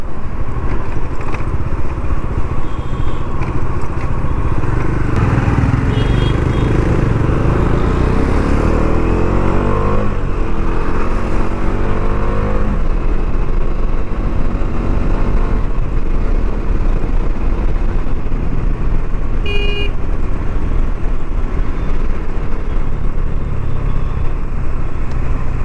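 A motorcycle rides through Bangalore city traffic with a steady loud engine drone and wind rush, rising through gears as it accelerates, with other vehicles passing nearby.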